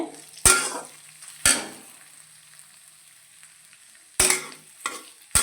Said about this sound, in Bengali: আর পিঁয়াজ আর লঙ্কা দিয়ে ভাজা ভাজা করে নিলাম